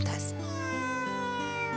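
A domestic cat gives a single drawn-out meow, close and clear, with a human voice speaking around it.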